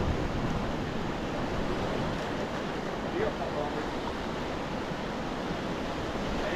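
Ocean surf rushes in a constant, broad wash of noise, waves breaking steadily and moderately loud with no distinct pauses.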